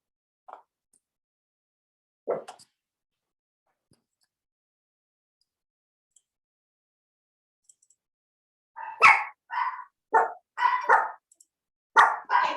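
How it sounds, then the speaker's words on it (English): Dogs bark indoors at a moderate distance, first with one or two isolated yips and then a quick cluster of several sharp barks near the end, with long quiet gaps between. "I got these dogs. Barky, barky, sorry."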